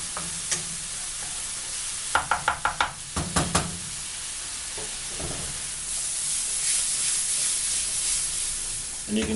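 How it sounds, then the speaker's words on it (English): A pan of turkey mince samosa filling cooks on the stove with a soft, steady sizzle and hiss. A quick run of spoon taps and knocks against the pan's edge sounds early, then the low bubbling carries on alone. "Leave that to simmer for a few minutes to get all the flavours to come together."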